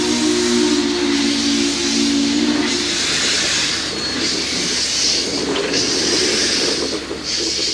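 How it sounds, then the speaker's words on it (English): Southern Pacific 4449 Daylight steam locomotive pulls out of Portland Union Station, its steam whistle sounding loudly for about three seconds over a continuous, heavy hiss of steam that carries on throughout. "For a younger generation who had never seen a steam engine pull out of the station, the daylight put on a fitting performance."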